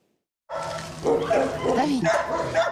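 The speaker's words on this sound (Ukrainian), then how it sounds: "Веня – активний шестирічний песик із Сєвєродонецька." A six-year-old dog from Sievierodonetsk, taken in by an animal control shelter, gives close, loud, whiny barks and yips that run almost without a break for about two seconds.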